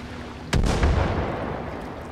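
A boat blows up after being shot in Far Cry 5, a single sharp, loud blast followed by a booming rumble that slowly fades under a steady layer of game background noise.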